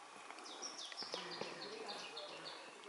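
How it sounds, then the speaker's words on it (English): Forest birds on the slopes of Kilimanjaro chirp and tweet repeatedly in a quick sequence, faint and somewhat distant, over a soft ambient hiss. "Birds."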